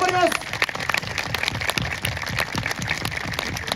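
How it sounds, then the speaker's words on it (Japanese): Applause from an outdoor festival crowd in Shiraishi greeting a guest ambassador, steady mid-level clapping running under a person speaking. "もう温かい拍手ありがとうございます"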